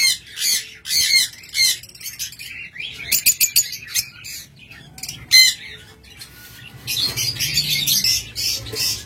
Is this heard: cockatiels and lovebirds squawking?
yes